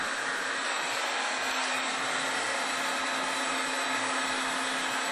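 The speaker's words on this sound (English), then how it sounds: "my heat gun, and shrink that down" Heat gun blowing hot air to shrink tubing over chrome braid on wiring for a bicycle front wheel light, a steady close whooshing roar with a low hum underneath, continuous and alone.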